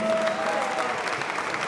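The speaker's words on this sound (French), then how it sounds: "Applaudissements s'il vous plaît." Guests at an entrepreneurs' dinner applaud in a brief, dense burst of steady clapping, with a faint voice underneath.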